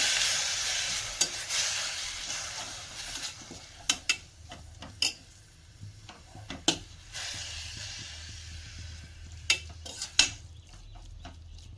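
Grated bottle gourd frying in a pan with a steady low sizzle, broken by repeated sharp clicks and scrapes of a spatula stirring, with no talk.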